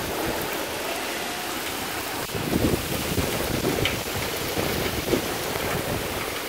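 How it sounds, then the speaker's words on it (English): Heavy torrential rain pours down steadily during a Toronto thunderstorm, a dense, continuous roar of water up close and without speech, with a few louder surges and splashes partway through. "I have a covered landing, and the rain is still coming in"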